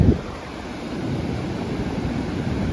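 Sea waves washing up on Alibag beach make a steady, loud rushing roar of surf mixed with wind buffeting, and no voices are heard.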